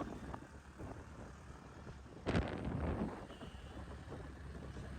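Wind buffets the microphone outdoors beside the Padma river, a steady low rumble with one sharp gust burst in the middle, with traffic passing nearby.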